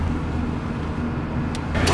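A car cruising steadily at about 30 on cruise control, with a continuous low engine hum and road noise holding even throughout, loud and close from inside the cabin, with no talk.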